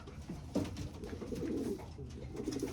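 Young pigeons cooing softly in a loft, a few low murmuring calls close by and alone, with no talk.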